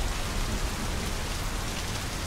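Steady rain falls in the video game My Summer Car, a dense, even hiss of drops on surfaces that stays constant and fairly loud throughout, with no voices.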